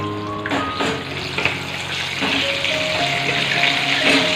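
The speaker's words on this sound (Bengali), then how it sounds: "দাঁড়াও আমি আলুটা ছেড়ে নিই তেলটা গরম হয়ে গেছে" Potatoes dropped into hot oil give a steady, close sizzle and bubbling that runs unbroken from start to finish, with no voices over it.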